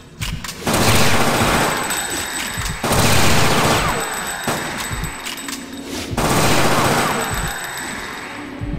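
Video game gunfire from Fear Effect rattles in loud rapid bursts, several sustained volleys separated by short pauses, dense and close with little else audible.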